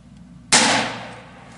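A single sharp, loud gunshot from a CCI .22 Magnum round fired over a chronograph at an outdoor range, with an abrupt crack followed by a decaying tail of about a second, no speech.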